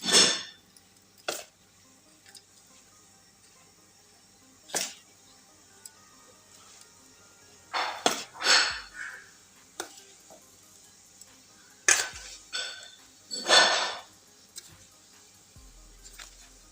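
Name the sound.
mixing almonds and ingredients for panjeri in a bowl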